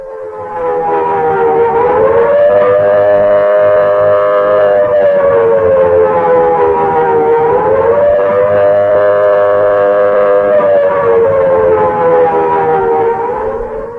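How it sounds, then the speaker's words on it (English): Loud civil defense siren sounding the red warning of imminent attack, a steady wailing tone that slowly rises and falls in long sweeps, continuous and dominant throughout. "This siren is sounding the red warning."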